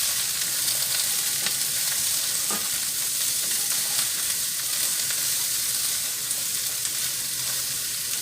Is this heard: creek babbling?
no